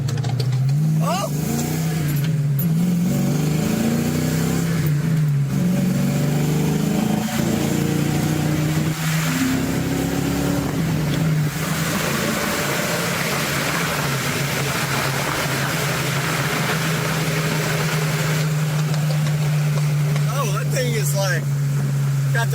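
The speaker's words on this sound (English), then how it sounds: "You hear it backfire? Oh yeah, big time. It's got the tune. What is it, a Beamer? Yeah, BMW with the burble tune." BMW car with a burble tune revs hard nearby, engine note rising and falling with crackling backfire pops through a long stretch, while people talk over it.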